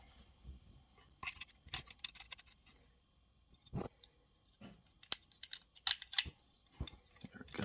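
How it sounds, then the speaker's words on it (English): A clamp being tightened on a Korbanth OWK4 Ben Kenobi Proffie Neopixel lightsaber hilt gives off scattered small metallic clicks and ticks, quiet and close, with short pauses between them. "I'm actually going to tighten this one a little bit now"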